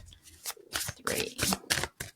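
Tarot cards are shuffled by hand in a quick run of crisp riffling bursts, five or six close, papery flutters in about two seconds.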